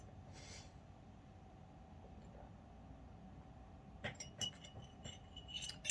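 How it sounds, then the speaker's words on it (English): Glass clinks lightly several times in quick, small taps after a quiet stretch as someone takes a sip of water, over a steady low room hum. "I'm going to take a sip of water."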